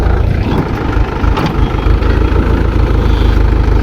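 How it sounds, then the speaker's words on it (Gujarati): A tractor engine runs steadily nearby during groundnut sowing, a loud low rumbling idle that continues without a break. "તો માંડવી વાવવાનું ચાલુ કરી દીધું ટ્રેક્ટર આવી ગયું છે"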